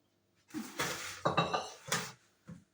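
A plate is lifted from a stack of dishes in a home kitchen, a few close, sharp ceramic clinks and scrapes in quick succession with a last small knock.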